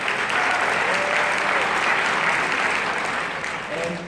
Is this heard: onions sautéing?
no